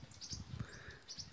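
Birds chirp outdoors on a sunny, partly cloudy day, with several light, high tweets scattered across a short stretch, fairly close and moderately soft.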